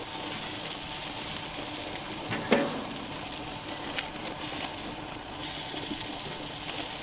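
Steaks cook on a grill with a soft, continuous hiss and sizzle, dotted with a few light clicks and one sharper knock, at moderate volume and without voices.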